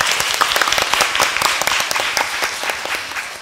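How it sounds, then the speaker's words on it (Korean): Audience applause closing a talk session on careers in international organizations, a loud, dense, continuous roar of many people clapping together that holds steady and eases slightly at the end. "다시 박수 부탁드립니다."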